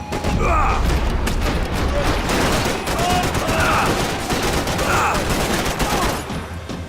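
Dense, sustained gunfire from the video game Max Payne 3, with rapid overlapping shots and bursts throughout at a loud, close level, while voices talk underneath.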